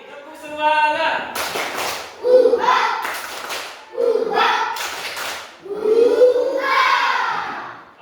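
Schoolchildren in a classroom chant a tepuk semangat, calling out loudly together in phrased bursts punctuated by sharp rhythmic hand claps.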